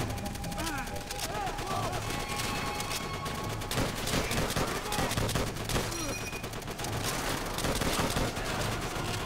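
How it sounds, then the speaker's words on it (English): Machine gun fire in Call of Duty: World at War, dense rapid bursts and scattered gunshots crackling continuously in a loud battle, with shouting voices mixed in now and then. "There's an MG to my right."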